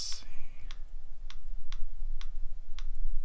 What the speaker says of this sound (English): Can you guys hear that keyboard as I touch the keys?